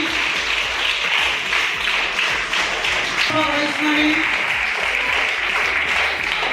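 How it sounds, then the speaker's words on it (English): Sustained applause from an audience at a school quiz competition on National Space Day, steady dense clapping filling the whole stretch while a voice briefly speaks a name over it. "Big round of applause for Pallavi."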